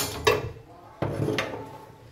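A wok set down on a gas stove, giving two distinct metallic clanks about a second apart, close and fairly quiet, with no talk.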